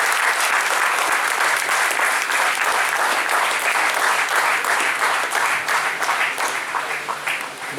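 Loud, sustained applause from a large audience at a student union anniversary meeting, thick continuous clapping that stays at full strength and only eases slightly at the end.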